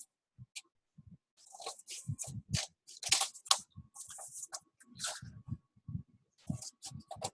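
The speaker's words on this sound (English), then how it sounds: "now I'm going to go ahead and I'm going to cut again" Scissors cut paper close by in a series of crisp snips and rustles, irregular and separated by short quiet gaps, with no talk.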